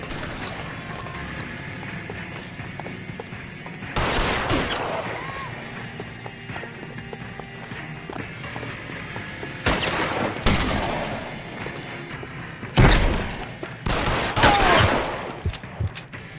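Gunfire in the video game L.A. Noire, sounding as several separate bursts of shots over a steady background with horse clip-clop, spread across the clip with speech mixed in.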